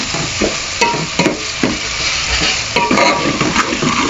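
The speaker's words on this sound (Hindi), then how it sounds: "अब हम इसमें टमाटो डाल के अच्छी तरह इसकी भुनाई करेंगे।" Chopped tomatoes fry in a hot pan for a paithay (pumpkin) curry, a steady loud sizzle broken by repeated scraping stirs of a spoon against the pan.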